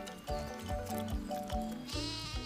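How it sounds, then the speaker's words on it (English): Six-week-old Dorper lambs bleat in quick succession, several close, loud wavering cries overlapping one another in an outdoor farm setting. "these Dorper lambs are just 6 weeks old"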